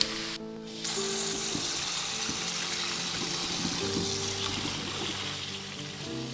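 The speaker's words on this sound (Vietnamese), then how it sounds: "Bún sau khi trộn xong thì mình sẽ rửa qua nước lạnh cho đến khi nào nước trong." Cold tap water runs steadily over rice noodles being rinsed in a kitchen, a continuous hissing splash with faint clinks and shifts as the noodles are handled.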